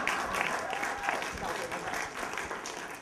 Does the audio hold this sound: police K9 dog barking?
no